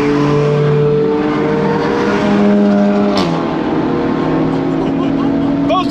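A Volkswagen Atlas accelerates hard uphill in a drag race, its engine droning loudly with rising and shifting pitch, and voices can be heard faintly inside the cabin.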